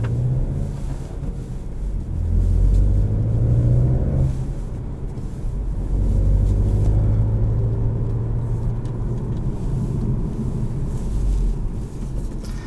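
A 2021 Volkswagen Golf GTI SE with a manual gearbox on the move, its engine giving a steady low rumble with road noise that rises and falls as it accelerates, heard from inside the cabin with no talking.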